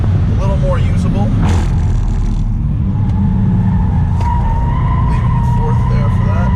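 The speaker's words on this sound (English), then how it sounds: "Progressive understeer, a little bit of tire squeal." A 2018 Subaru WRX STI Type RA cornering on a race track, a thin, sustained tire squeal rising over loud engine drone and road roar, with a person talking throughout.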